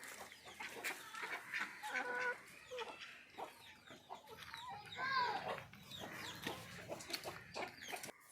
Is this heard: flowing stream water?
no